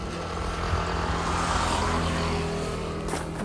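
A homemade toy airplane's propeller gives a steady, fairly loud buzzing drone that holds without a break for a few seconds.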